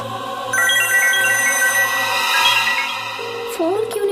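A telephone rings with a steady electronic ringtone, loud and close, repeating in an even pattern for several seconds with no talk over it.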